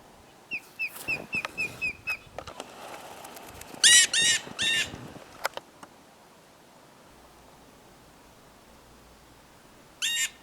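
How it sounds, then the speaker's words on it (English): Harsh, repeated bird alarm calls warning of a hawk in rapid bursts, a series of sharp squawks, then louder clustered cries, with a final burst after a long quiet stretch. "Snowy made a hawk alarm."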